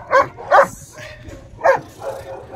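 A young dog in training gives three or four short, sharp yips and barks close by, spaced irregularly over a couple of seconds.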